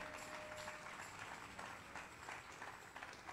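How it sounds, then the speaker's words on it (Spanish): Church congregation applauding the Lord during a joyful worship service: dense, continuous clapping from many people, fairly faint and distant in the room, with a faint tone lingering early on. "Dele un aplauso fuerte al Señor"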